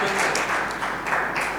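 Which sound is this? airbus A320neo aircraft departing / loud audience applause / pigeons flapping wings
loud audience applause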